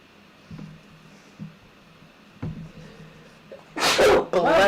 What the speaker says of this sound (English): this guy sneezed down my shirt, not in your face.